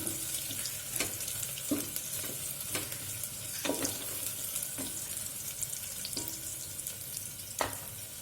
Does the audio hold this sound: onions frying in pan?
yes